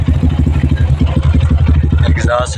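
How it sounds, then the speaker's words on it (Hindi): A Lifan KPR 200cc six-speed motorcycle idling through a loud aftermarket exhaust, a close, rapid, steady pulsing putter that ends with a brief rise near the end, while someone talks over it. "एग्जॉस्ट इसका लगा हुआ है बड़ा साउंड वाला।"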